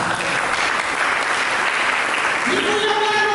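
Audience applause in a church during a sermon, a dense, steady wash of clapping held at a loud level throughout, with a voice faintly rising near the end.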